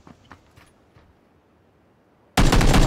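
A loud, sustained burst of gunfire from the battle royale game PUBG cuts in suddenly after a few faint taps and near-silence, continuing dense and close to the end.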